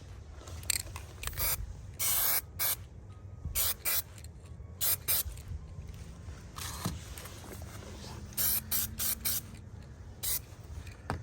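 Aerosol clear coat sprayed over a Honda GX160 small engine painted Millennium Yellow, heard as many short, sharp hissing bursts in an irregular rhythm, close and fairly loud.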